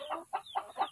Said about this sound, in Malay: Tu ayam dah berketok menandakan dia dah bertelur